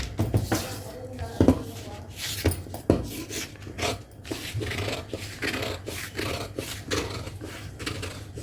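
Scissors cut by hand through the cloth of a sleeve pattern at a tailoring table, making uneven rasping snips and rubbing of fabric, with faint speech in the background.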